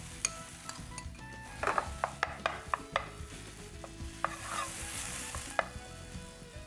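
Boiled, crushed potatoes fry with masala in a pan, a soft sizzle broken by scattered scrapes and clinks of a spoon stirring against the pan.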